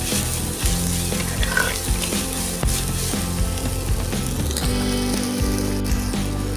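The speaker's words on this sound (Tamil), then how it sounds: "இஞ்சி பூண்டு பேஸ்ட் ஸ்மெல் போற வரைக்கும் நல்லா வதக்கணும்" Ginger garlic paste sautéing in a pot for mutton biryani, a continuous loud sizzle with scraping stirs, set against a pulsing rhythmic background.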